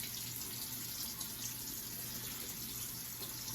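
Tap water running into a sink before shaving, a faint steady rushing splash that continues evenly without a break and with no voices.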